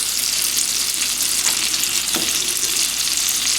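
Floured ginger pork tenderloin sautés in a hot pan, giving a loud, even sizzle with a couple of brief stirring scrapes and no voices.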